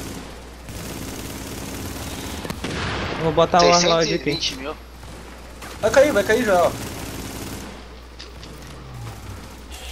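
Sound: gunfire in video game The Division

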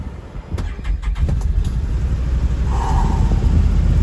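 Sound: Can-Am utility vehicle engine starting

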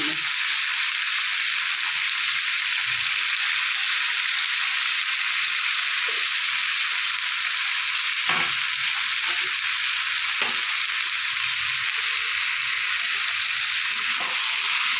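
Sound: spices with Kashmiri chili frying and being stirred together

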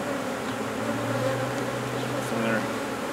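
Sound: honeybees buzzing in mating nuc colonies

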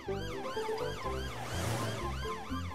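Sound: cartoon police car siren

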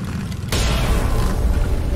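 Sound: gunshot in a film scene

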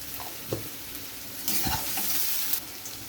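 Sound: potatoes and yardlong beans frying in oil

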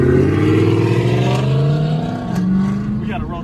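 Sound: Dodge Hellcat Challenger engine revving loudly

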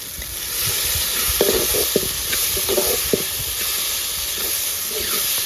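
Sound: chicken frying with masala in a pan

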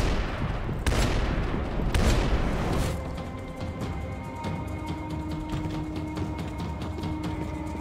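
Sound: automatic rifle gunfire in Max Payne 3 video game

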